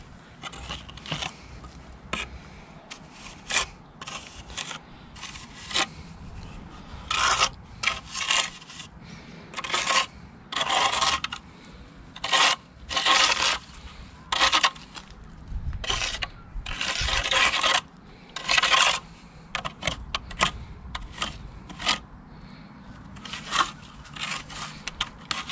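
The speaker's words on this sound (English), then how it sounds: "Literally just cut the render and then tilt, pull away." A steel trowel cuts back the edge of fresh sand and cement render on a garden wall, giving repeated short rasping scrapes in irregular bursts, close and fairly loud, with no talk.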